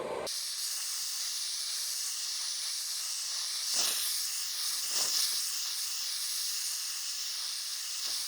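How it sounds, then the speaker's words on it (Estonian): A torch roars with a steady hiss while heating a rusted front axle part on a BMW E34 to loosen the rust, with two brief dips in the flame noise. "Sulatame lahti selle rooste."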